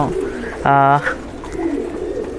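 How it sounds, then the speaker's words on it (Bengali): A Kala Gola pigeon gives a single short, resonant coo close by, over a quiet background. "এখানে আমার কিছু কবুতর আছে এটা আমার মূলত একটা কালাগলা জেনারেশন"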